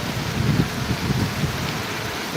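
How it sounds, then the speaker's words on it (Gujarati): Heavy rain pours down steadily on the Gondal market yard in a dense, continuous hiss, close and fairly loud, with no voices. "જોઈ શકો છો ગોંડલ માર્કેટ યાર્ડમાં વરસાદ પડી રહ્યો છે ધોધમાર"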